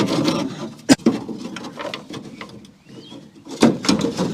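Rear wagon window of a Holden HK, with a worn-out runner, sliding in its frame: close, rough scraping and rubbing with a few sharp knocks at the ends of travel, no talking.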